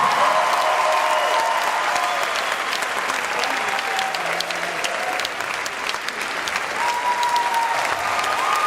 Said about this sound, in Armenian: ծափարությունները բարձր այս հրաշքմանուկներին